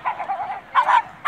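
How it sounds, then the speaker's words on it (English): Dogs bark in short yappy bursts at an outdoor seaside carnival, with a few quick barks, a pause, then another burst, fairly close and loud with no talking. "you can see more of the dogs waiting to have their go."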